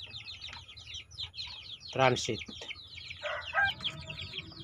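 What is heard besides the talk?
chickens clucking after moving to transit coop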